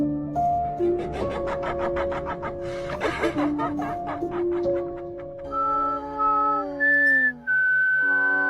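A person whistles a wavering, sliding tune in sustained notes, with laughter and chuckling in the first half.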